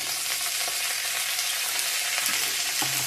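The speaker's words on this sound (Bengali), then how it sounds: "ভালো করে ভেজে নিব।" Mixed vegetables sizzle in a pan with salt and turmeric, a steady dense frying hiss with faint stirring scrapes, close and continuous with no talking.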